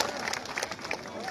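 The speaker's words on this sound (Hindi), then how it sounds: "जोर से हमारे नासिर भाई के लिए ताली बजाइए।" A crowd at a political rally claps, a brief burst of dense, scattered hand claps with voices mixed in, moderately loud and close.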